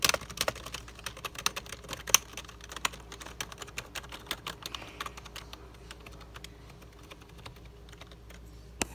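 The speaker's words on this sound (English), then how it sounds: "This is Booga's keyboard." Rapid typing clatters on a lit-up gaming computer keyboard, a dense run of sharp key clicks that gradually thins out, close and alone with no talking.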